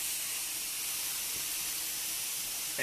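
Onions and peppers sizzle in a pan with ground bison, a steady, bright, even hiss that holds unbroken throughout at moderate loudness with no talking.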